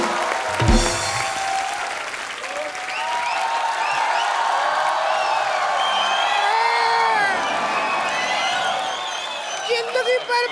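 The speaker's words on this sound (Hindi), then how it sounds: "जोरदार तालियां" A studio audience at The Kapil Sharma Show breaks into sustained applause mixed with cheering and whoops. The crowd noise is loud and continuous, with voices rising over the clapping throughout.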